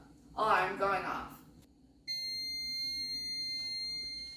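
A child car seat weight sensor alarm sounds a steady high electronic tone that starts abruptly after a brief burst of talk and holds at an even level to the end.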